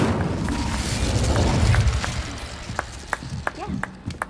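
A fire spell cast in the Hogwarts Legacy video game: a burst of crackling blast noise over ongoing game ambience, followed by a series of sharp pops and pings, with a character voice in the mix.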